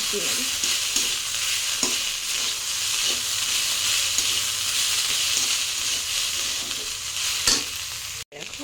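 Banana stem fries with grated coconut in a pan, giving a loud, continuous sizzle while a spoon stirs and scrapes in regular strokes. A brief clatter comes near the end, and no one speaks.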